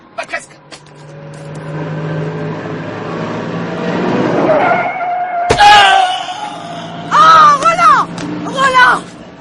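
In a French radio drama, a car's engine drones and climbs in pitch for several seconds, then a sharp bang cuts in and frantic voices wail and shout over it.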